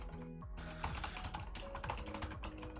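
Rapid, steady typing on a computer keyboard during a typing speed test, the dense key clicks continuous and close, with no talking.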